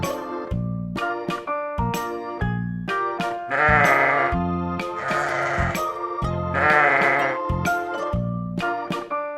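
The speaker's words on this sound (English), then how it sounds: "Sheep, S-H-E-E-P, sheep." Sheep bleat over and over in a farm-animal setting, loud and close: a series of bleats in a steady rhythm, some short, some longer and wavering, with no one talking.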